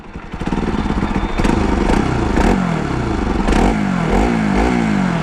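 A Bajaj Pulsar NS200 motorcycle engine with an exhaust leak between the exhaust and catalytic converter idles and revs repeatedly, its close, loud rumble rising and falling in several throttle blips with a raspy edge.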